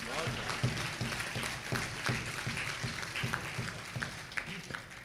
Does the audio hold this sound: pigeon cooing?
no